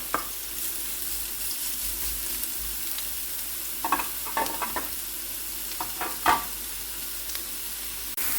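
Onion and carrot sizzle steadily in a frying pan, with a few scraping stirs and clicks from a utensil, no voices.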